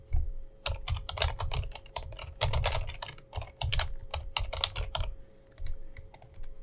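Computer keyboard keys are tapped in quick, uneven bursts while an Apple ID is entered, close and clear with short pauses between runs of keystrokes.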